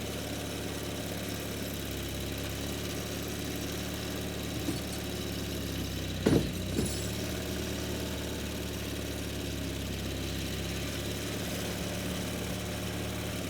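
Nissan Mud Beast engine running at a steady idle, a continuous low mechanical drone with a brief louder knock or clunk midway, heard alone without talk.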